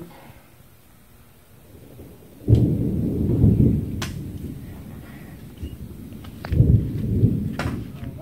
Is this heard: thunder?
yes